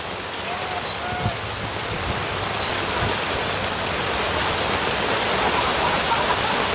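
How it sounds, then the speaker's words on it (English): Heavy rain pours down over a wet amateur Australian football ground at Smithfield during a Division 7 A-grade match, a dense, continuous hiss that swells slightly over several seconds, with a low murmur of distant voices underneath. "as the rain just starts to pour"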